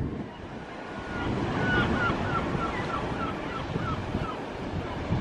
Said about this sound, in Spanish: La playa de Albufeira.